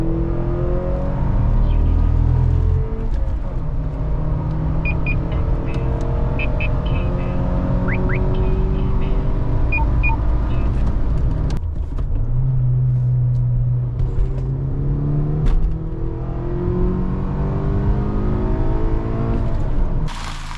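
A 2015 Honda Accord Sport with a 6-speed manual accelerates, its engine drone rising through the gears with brief dips at shifts, heard steadily from inside the car with no talk.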